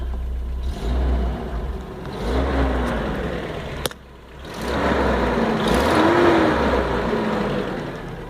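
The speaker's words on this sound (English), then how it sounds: "It's always had a tad bit of an exhaust leak, but it's not that bad with the radio on." A 1987 Toyota Sea Breeze RV with a five-speed and a slight exhaust leak, driving with a steady rumbling engine drone, a brief dip around a gear change, then a rise as it pulls again.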